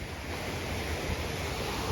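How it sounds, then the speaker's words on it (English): Rushing water from a waterfall along a hiking trail at Cascade Falls in Virginia, a steady, dense roar filling the whole moment without a break, with no voices over it. "And I hear more rushing water."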